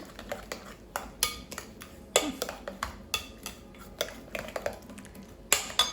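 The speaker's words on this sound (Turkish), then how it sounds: "Evet bu şekilde karıştırıyorum hepsini." Carrot and orange cake batter mixed in a bowl, a series of light clinking taps from the utensil against the bowl at an uneven pace, close and fairly soft.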